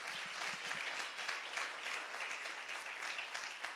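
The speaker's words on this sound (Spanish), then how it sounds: "Denle un fuerte aplauso al Señor." A church congregation applauds steadily during a sermon, a dense, even wash of many hands clapping at moderate volume with no voices over it.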